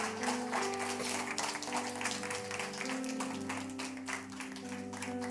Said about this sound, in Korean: 우리 큰 박수로 환영해 주십시오